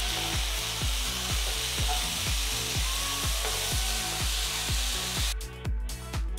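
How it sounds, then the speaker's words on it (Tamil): Tomatoes and ginger garlic paste sizzle in a pan for Dhaba-style aloo gobi masala, under a steady frying hiss with regular scraping strokes of stirring, close and continuous with no talking. "அடுத்து நறுக்குன 3 தக்காளி சேர்த்து 2 நிமிஷம் கிண்டுங்க."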